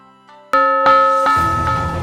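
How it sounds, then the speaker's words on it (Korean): A bell ringing out over the village of Izumo at dawn, with repeated clear metallic strikes that ring on and overlap, loud and resonant. "이즈모의 마을에 종소리가 울렸습니다"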